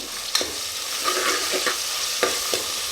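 Soaked dried peas frying in a hot pan for tomato bath, a dense close sizzle broken by several scraping strokes of a spoon stirring.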